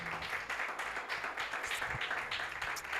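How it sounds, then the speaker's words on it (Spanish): A church congregation applauding during a service, a fairly faint, uneven patter of clapping hands with a few louder bursts and some low background murmur. "yo le daría un buen aplauso al Señor"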